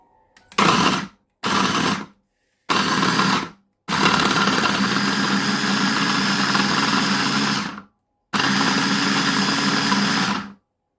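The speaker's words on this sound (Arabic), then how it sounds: "ادي يا ولاد ضربنا اللحمه، بس ضربناش قوي لسه" A food processor grinds minced meat for kofta in loud, close motor pulses: three short bursts, then a long run of about four seconds, a pause, and a final sustained whir. No one speaks.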